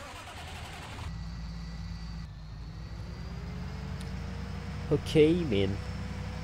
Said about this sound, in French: Vous voyez, là, avec le tracteur, ce sera plus sympa.